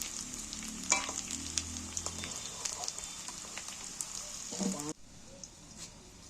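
Potatoes fry in oil, with a busy crackling sizzle and scattered popping, close by, plus a few clinks of stirring before the frying noise suddenly drops to a quieter hiss near the end.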